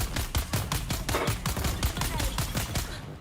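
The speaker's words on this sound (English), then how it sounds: "that's a lot of grenades" Rapid, dense string of loud explosive bursts from grenades going off in a video game battle, crackling one after another almost without pause for a few seconds before tailing off.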